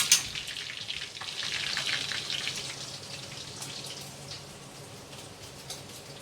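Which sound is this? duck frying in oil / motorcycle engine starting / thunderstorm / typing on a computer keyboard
duck frying in oil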